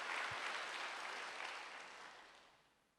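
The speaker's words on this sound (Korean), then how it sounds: "빨리 박수 한번 해주세요." A church congregation at a Wednesday worship service claps together in steady, dense applause. It is fairly distant and fades out gradually over a few seconds.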